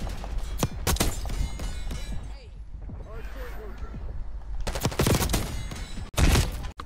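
Pistol gunfire in the video game Black Ops 6 comes as several sharp, loud shots in bursts, with a quieter stretch in the middle and a final heavy thump, while a player talks over it.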